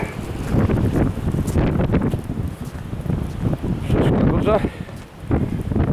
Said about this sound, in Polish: wichura dzisiaj jest mocno dmucha.